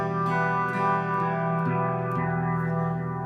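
Guitar played through a Boss MS-3 multi-effects unit with an overtone effect adding organ-like upper and lower octaves, giving sustained, thick, steady harmonic tones that shift pitch a few times, with no talk.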